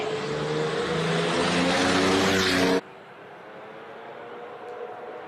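A 3.6 litre turbocharged classic race car at a hillclimb, a loud, close engine roar with steady droning harmonics that cuts off abruptly, followed by faint ambient background.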